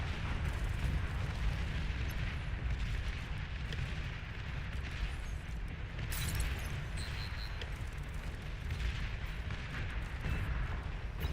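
In Beyond All Reason, a strategy game, an enemy commander is destroyed amid a steady, loud wall of explosions and artillery rumble, with a sharper burst standing out partway through.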